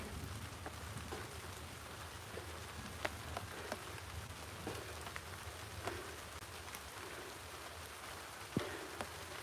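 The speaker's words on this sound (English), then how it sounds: "It's raining." Steady rain falling outdoors, a soft continuous hiss with scattered faint drops and ticks, distant and quiet throughout.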